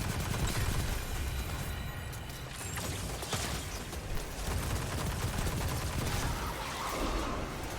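Sniper rifles fire in Destiny 2's Shattered Realm: Forest of Echoes, with sharp shots scattered through a dense, noisy mix of weapon and mechanical game sounds.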